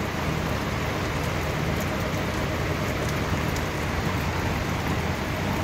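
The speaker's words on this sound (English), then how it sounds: "Nice rainy day." Steady rain pours in Bermuda, a dense, even hiss of drops on surfaces that holds at constant loudness without a break, with no voices.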